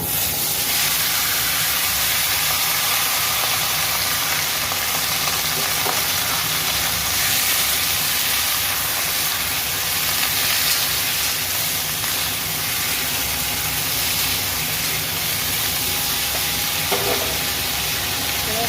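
Vegetables with panch phoron and dried red chillies fry in a pan, giving a loud, continuous hissing sizzle that runs unbroken throughout, with faint occasional stirring and no talking.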